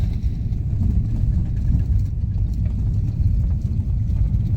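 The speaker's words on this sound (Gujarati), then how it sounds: "જો છકડો આવ્યો, છકડો।" A chhakda motorcycle rickshaw passes on a road under construction near a temple in Dwarka, heard as a steady low engine rumble at mid distance that holds for several seconds beneath general traffic noise.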